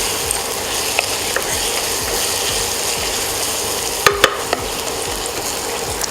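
A spoon stirs a prawn biryani mixture in a hot pan over a steady loud sizzle, with scraping strokes and a couple of sharp clanks against the pan, close up and without talk.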